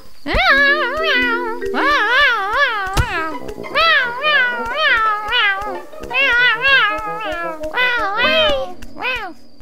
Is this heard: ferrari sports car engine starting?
no